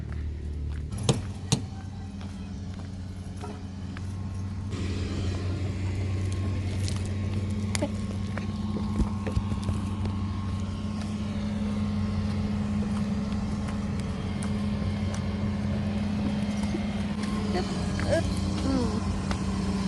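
A car interior on the drive home, with a steady low engine hum throughout, a couple of sharp clicks and key jangles near the start, and faint voices and rustling in the background.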